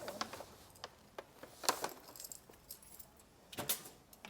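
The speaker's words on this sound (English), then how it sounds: "Okay, we'll have those keys now." A set of keys jangles and clinks in several bright metallic bursts spread over a few seconds, close and fairly quiet, with no voices.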